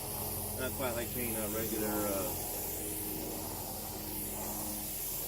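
A coating is lightly sprayed onto a car headlight during restoration, giving a continuous soft hiss of aerosol. Someone talks over the spray.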